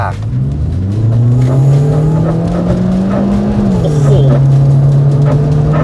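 A Volkswagen Golf Mk3 fitted with an Audi TT engine revs hard and close. A loud engine tone climbs steadily, holds, then drops and settles at a high idle, with a little talk faintly underneath.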